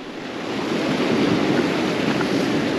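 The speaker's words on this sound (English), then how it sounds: "Now these rocks are very wet, which tends to mean there's waves coming over them." Sea waves wash over wet seaside rocks in a loud, continuous surge that swells and holds, with wind rushing across the microphone.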